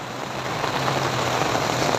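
Steady rain falls on surfaces outdoors during a monsoon-season downpour, making an even wash of hiss with a low engine-like rumble underneath.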